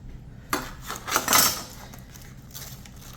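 A metal spatula scrapes and clinks against a pan while lifting oven-roasted snapper, a few close knocks and a brief scraping swell, then a quieter stretch.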